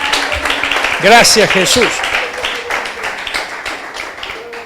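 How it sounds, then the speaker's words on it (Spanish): A church congregation claps and cheers in praise, with many hands sounding as a steady patter. Voices call out over the clapping, and one rises in a short, wavering exclamation. "dale un aplauso al Señor"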